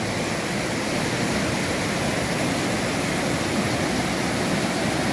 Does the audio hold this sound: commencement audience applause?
no